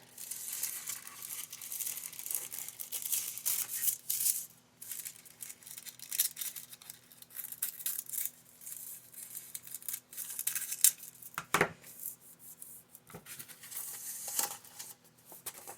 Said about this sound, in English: I'm just going to take a pair of scissors.